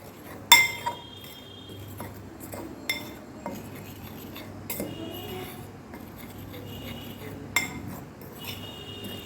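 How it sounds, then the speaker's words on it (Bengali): Banana flower mash being mixed by hand with semolina, salt and black cumin, mostly quiet shuffling broken by a few sharp clinks of a utensil against a bowl, spaced irregularly. "দেবো কিছু কালো জিরে দিয়ে এটাকে আমরা ভালো করে মিশিয়ে নেব"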